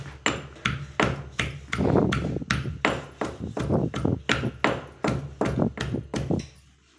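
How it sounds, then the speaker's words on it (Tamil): Steady rhythmic pounding in a stone mortar, turkey berries crushed with repeated sharp thuds, close up and evenly paced for several seconds. "இடி உரல் எடுத்துக்கோங்க அதில் சுண்டைக்காயை போட்டு இப்படி நல்லா நசுக்கிக்கோங்க"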